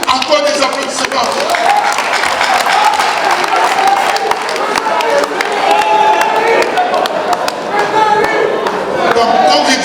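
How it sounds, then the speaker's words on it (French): Audience at a Cameroonian cultural evening in Rouen applauds steadily for about ten seconds, a dense loud wash of clapping with some cheering mixed in. "Encore des applaudissements."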